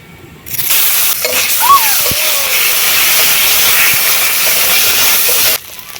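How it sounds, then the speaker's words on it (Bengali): Turmeric powder and ginger-garlic paste hit hot mustard oil in a pan, setting off a loud, steady close-up sizzle that rushes in abruptly, holds for about five seconds and then cuts off. "এবারে ওই তেলের মধ্যে দিয়ে দিচ্ছি হলুদ গুঁড়ো আদা রসুন বাটা"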